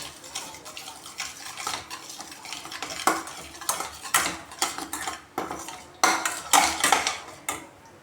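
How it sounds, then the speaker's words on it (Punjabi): Spatula scraping and clinking against a pan as sugar melts over low gas, a steady run of close metallic strokes and scrapes with a faint sizzle underneath. "ਪਲਟੇ ਨਾਲ ਇਸ ਨੂੰ ਹਿਲਾਉਂਦੇ ਰਵਾਂਗੇ"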